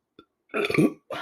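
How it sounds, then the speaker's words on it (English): A single loud, drawn-out burp at close range, rough and gurgling, followed shortly by another short voiced sound; a faint click comes before it. "Okay, I got a burp."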